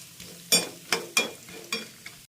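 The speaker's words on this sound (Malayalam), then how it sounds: "നല്ലപോലെ നമുക്ക് വറുത്ത് പോരണം" Coconut pieces frying in coconut oil in a pan, with a soft sizzle under five or six sharp, scraping stirs in an uneven rhythm, close and fairly quiet.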